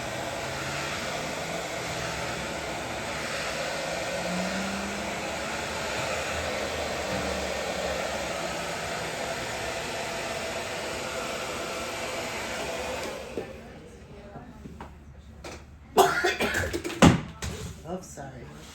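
A hair dryer blows steadily and loudly for a long stretch while hair is dried, then cuts off, leaving a few soft knocks and handling sounds.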